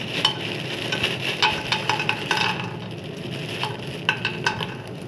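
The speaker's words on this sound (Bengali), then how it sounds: "তেল গরম হয়ে গেছে, এবারে কটা বড়ি আমি দিয়ে দিচ্ছি" Badi, lentil dumplings, fry in hot mustard oil in a kadai, giving a steady bright sizzle with repeated clinks and scrapes of a spatula against the pan.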